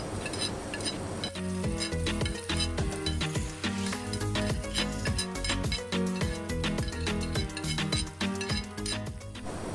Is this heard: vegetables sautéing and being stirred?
yes